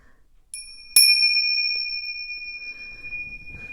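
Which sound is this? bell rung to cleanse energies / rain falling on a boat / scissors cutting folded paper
bell rung to cleanse energies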